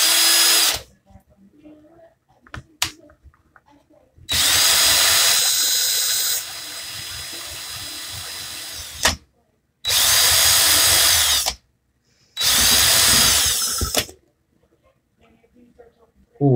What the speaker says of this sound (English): the drill in reverse now